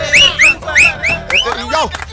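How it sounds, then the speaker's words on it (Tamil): An audience in a Tamil movie comedy scene whistles in a string of short, loud, rising wolf-whistle-like bursts, about five in quick succession, with voices and cheering mixed underneath. "விசில் அடிச்சு கை தட்டுறீங்க"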